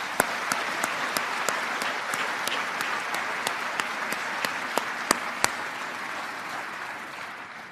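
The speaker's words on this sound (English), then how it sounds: "Please join me in giving this awesome class of 2020 a round of applause" A graduation ceremony audience claps for the class of 2020. The applause is steady and moderately loud, and a few sharp individual claps stand out before it thins toward the end.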